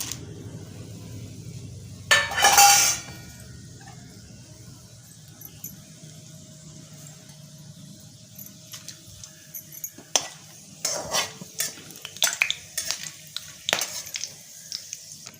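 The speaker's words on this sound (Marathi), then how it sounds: "तेल तापलेलं आहे. हे सगळं जिन्नस घालून घेते मी." Spices and ingredients dropped into hot oil in a pan for harbhara rice, opening with a loud burst of sizzling, then quieter frying under scattered clinks and scrapes of a spoon against the pan.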